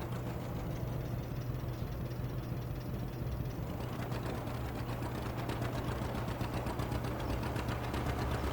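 A tractor engine in Farming Simulator 25 labors under load, a steady low droning rumble with a rapid mechanical chatter that sharpens partway through, loud and continuous with no talking.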